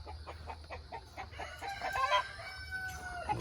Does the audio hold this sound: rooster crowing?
yes